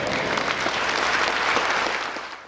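Audience applause fills a prayer breakfast hall, a dense steady clatter of many hands that carries on for over two seconds before easing off near the end.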